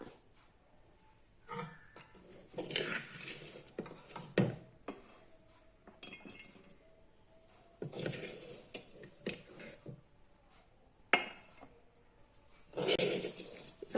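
Oil mango pickle being spooned into a glass bottle, with scattered clinks of metal spoon against glass and soft scraping in bursts separated by quiet pauses.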